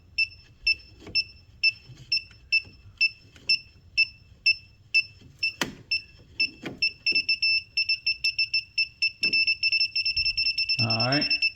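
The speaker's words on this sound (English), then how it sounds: "Wherever it beeps red this time is definitely the correct circuit breaker." A circuit breaker finder passed over a breaker panel chirps in a high, steady repeating pattern, the beeps speeding up into rapid bursts before a brief buzzy tone at the end.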